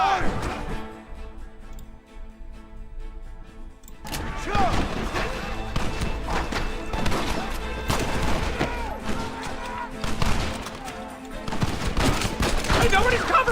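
Rapid gunfire from a Western shootout in the video game Red Dead Redemption, with repeated shots and crashes going off in bursts after a brief quieter stretch, under shouted voices.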